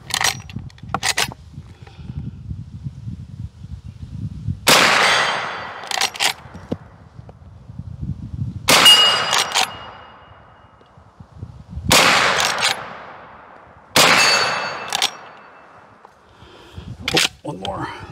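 Rossi .44 Magnum rifle firing at distant long-range targets outdoors, five loud sharp shots spaced a few seconds apart, each with a decaying echo, with a few quieter clicks of handling between them.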